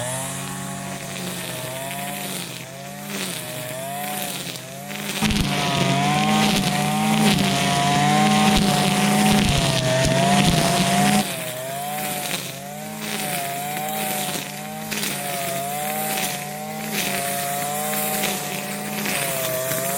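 Hart brand cutter running through thick, tall overgrown grass in a yard, a loud continuous engine drone that surges and bogs under load, steady throughout with no talking.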